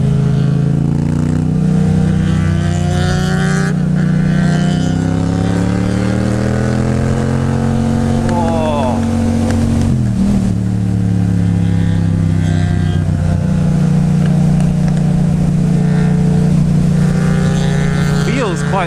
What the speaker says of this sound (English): MT-07 with the Acura exhaust.